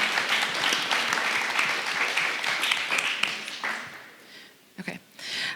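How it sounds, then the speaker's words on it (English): Audience applause after a closing conversation, a dense burst of clapping that holds for several seconds, then thins and dies out, with a few stray sounds and a voice near the end. "Yes, round of applause."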